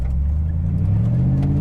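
Morgan Aero 8 SuperSports engine heard from inside the car as a steady, deep low rumble at cruise, loud and continuous with no talk over it.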